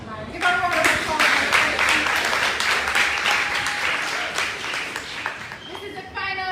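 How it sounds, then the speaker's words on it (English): A debate competition final audience gives a round of applause, a full, sustained burst of clapping from many people that holds steady before fading as a voice begins speaking. "Give a round of applause."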